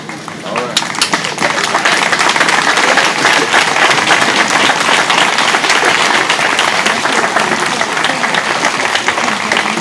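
A large gathering at the unveiling of John Lewis Freedom Parkway breaks into loud, sustained applause for Congressman John Lewis, thick continuous clapping with cheering voices mixed in.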